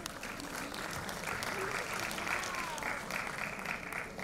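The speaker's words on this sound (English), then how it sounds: "Round of applause, everyone, for Meenakshi Jain." An audience at an awards ceremony for women's empowerment claps steadily for an honoree, a dense, even wash of applause lasting the whole few seconds, moderately loud and filling the hall, with no individual voices standing out.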